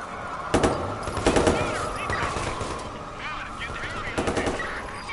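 Watch Dogs 2 gameplay with repeated gunshots in short bursts over a dense, busy game soundscape, with voices talking throughout.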